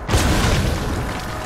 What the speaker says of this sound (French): Quelqu'un balance une grenade.